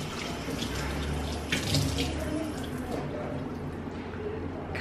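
A kitchen tap runs steadily into a sink to wet something while cooking, a continuous near splash of water that swells briefly in the middle and then carries on, with faint low background hum.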